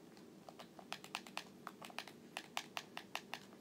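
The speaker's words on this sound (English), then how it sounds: "Sorry if you guys are hearing the clicking." A computer keyboard clatters in quick, irregular bursts of crisp clicks, close and fairly quiet, during a Minecraft gaming session.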